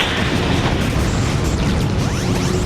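Satellite cannon blast in the Shadow the Hedgehog video game, a loud, continuous roaring explosion with rumbling low end and sweeping high tones throughout.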